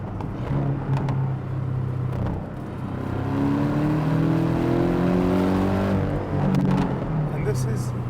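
Porsche 718 GTS 2.5 with PDK and sports exhaust running in a low gear at higher revs, around 5,000 to 6,000 RPM, giving a steady droning engine note that rises in pitch before easing off, with a voice talking over it.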